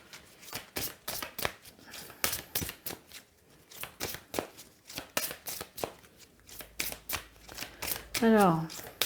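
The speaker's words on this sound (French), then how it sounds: "on va vous tirer la carte que j'ai oublié de vous tirer" Tarot-style cards are handled and drawn from a deck, giving a run of quick close rhythmic card flicks and slaps, with a brief voice near the end.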